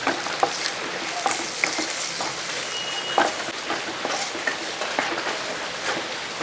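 Crushed chilli and hot chilli flakes stirred in a frying pan while making a prawn roast, a close sizzling hiss with irregular clicks and scrapes of the spoon against the pan.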